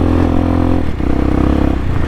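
A 2020 CSC TT250 dual-sport motorcycle rides at dusk with a steady, loud engine drone and tire rumble close by, holding a constant low thrum with slight rises in tone, with no talking.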